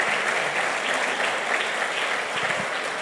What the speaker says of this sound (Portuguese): E eu gostaria que você aplaudisse esse Deus nessa manhã tão maravilhoso.